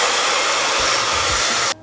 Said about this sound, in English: I'm gonna blow dry it a little bit.